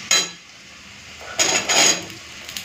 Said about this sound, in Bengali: তো পেঁয়াজটা ভেজে নিয়েছি, এখন এই সবজিগুলো দিয়ে দিচ্ছি।